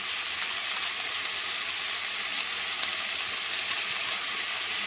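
Sandwich vegetables frying with Maggi masala in a pan, a dense, even hiss of sizzling oil going on throughout, close with a few faint stirring ticks.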